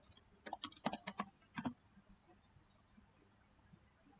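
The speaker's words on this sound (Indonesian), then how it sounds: "Nah, langsung kita ketik git." A git command typed on a computer keyboard, a short burst of quick, light, close key clicks followed by quiet.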